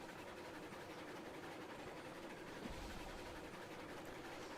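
A train in the video game Railroads Online rolls along its rails with a steady, dense, even rumble that runs throughout.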